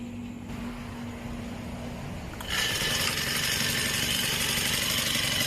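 A small brush cutter engine starts and runs with a steady buzzing roar that jumps louder halfway through, continuous and close.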